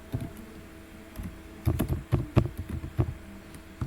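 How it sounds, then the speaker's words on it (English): Clacking keys on a computer keyboard as an email address is typed, irregular bursts of close, moderately loud keystrokes with short gaps, no talking. "So I am typing my email address."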